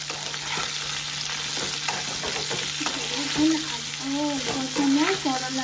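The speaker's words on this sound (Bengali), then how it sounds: "করলাটারে ভাজা করবো" Sliced bitter gourd frying in a pan, a steady soft sizzle with occasional stirring scrapes, close and alone without talk.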